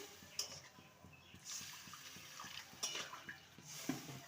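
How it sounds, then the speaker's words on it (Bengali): Water is poured into a pan of fried spice paste for a drumstick vegetable curry, a faint, soft trickle and splash at low volume with no voices. "এবারে দিয়ে দেবো পরিমাণ মতন জল"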